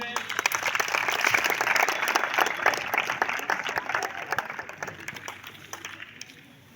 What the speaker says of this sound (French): Acclamons un peu.